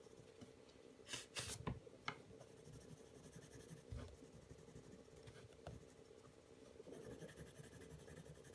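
Coloured pencil strokes rub over paper as two blues are blended, a close, quiet, scratchy shading sound of repeated back-and-forth strokes with a few sharper taps and scrapes.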